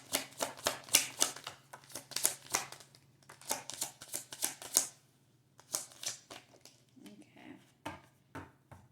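Tarot cards are shuffled in bursts of quick, crisp riffling and flicking, close and clear, with brief pauses between rounds.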